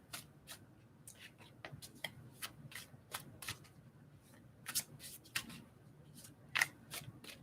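Tarot cards being shuffled, quiet riffles and flicks repeating in an uneven rhythm, close and soft, with no voices.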